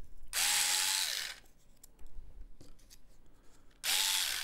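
A cordless power tool whirs loudly in two bursts, about a second at the start and again near the end, with a wind-up and wind-down pitch sweep, separated by quieter handling noise.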